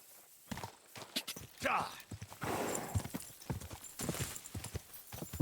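In the video game Kingdom Come: Deliverance II, horse hooves clop in an uneven walking rhythm close by, with a short neigh partway through and soft talk mixed in.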